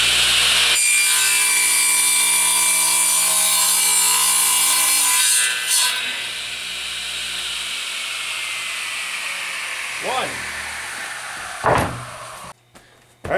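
A handsaw cuts wooden planks to rough length, a loud, fast rasping stroke close by for several seconds, then fading into quieter scraping with a couple of brief knocks.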